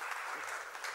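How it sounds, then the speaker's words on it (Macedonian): Studio audience applause on a Macedonian talk show's final episode, a steady dense clapping that fills the short moment at even loudness. "Може еден аплауз за Елена!"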